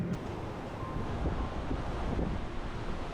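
Steady wind blowing over a sailing boat on the open Atlantic as a rain cloud approaches, a constant broadband rush with buffeting against the microphone and no voices.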